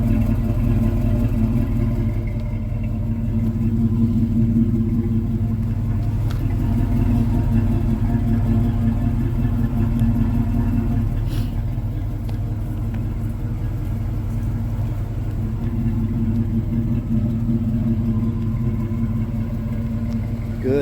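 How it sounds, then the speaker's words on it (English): A 1981 Chevy Camaro Z28's replaced exhaust rumbles low and steady at idle, a deep continuous throb that holds for the whole stretch without voices. "It's got a pretty good little exhaust tone to it."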